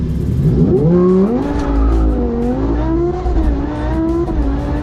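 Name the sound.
Lamborghini accelerating in a 0-60 mph run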